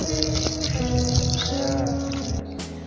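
Water poured over freshly sown seeds in soil, a continuous splashing, gushing flow close by that tapers slightly toward the end.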